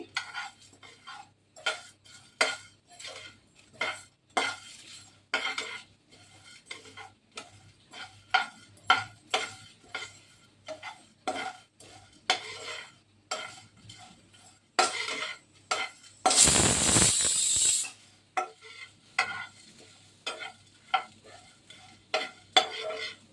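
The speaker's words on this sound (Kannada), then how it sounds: "लो फ्लेम पर ही इसको भूनिए." Mutton pepper fry roasting on a low flame, with a spoon stirring and scraping the pan in steady repeated strokes over a faint sizzle, and one brief louder burst of frying partway through.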